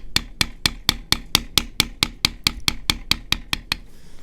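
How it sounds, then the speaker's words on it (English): A leather beveling tool struck repeatedly with a mallet while tooling a belt, about seventeen sharp, evenly spaced taps close up, each a crisp knock with a short ring, no talk. "We're going to keep beveling these spaces out."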